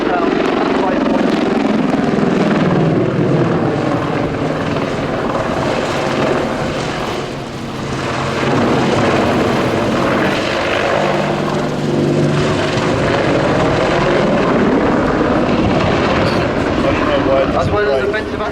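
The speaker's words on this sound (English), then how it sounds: "The bunt sees the aircraft pitch from 90 degrees nose up to 90 degrees nose down at the right point." A loud, continuous Apache attack helicopter engine roar with rotor throb at an air show flying display, holding steady for the whole stretch with a brief dip midway as the aircraft manoeuvres nearby.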